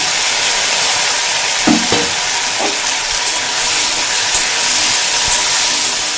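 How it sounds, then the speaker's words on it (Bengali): Cucumber slices fry over a high flame, a steady loud sizzle and hiss throughout with a few brief stirring scrapes near the start; no voices. "তাই হাই ফ্লেমে রেখেই ভেজে নেব শশাগুলো"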